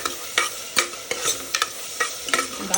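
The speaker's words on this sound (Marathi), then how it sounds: "दह्यामध्ये टोमॅटो आणि थोडासा कांदा पण टाकला आहे मी ठीक आहे मस्त फ्राय करून घ्यायचं" Tomato and a little onion fry in curd in a home kitchen pan, a steady sizzle broken by regular scraping strokes of a stirring spoon, close and moderately loud with no voices.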